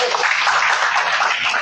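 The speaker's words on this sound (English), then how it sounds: "Let's get a round of applause." Audience applause at a Greenwood voters league meeting, a steady dense wash of clapping hands sustained evenly through the short stretch with no voices over it.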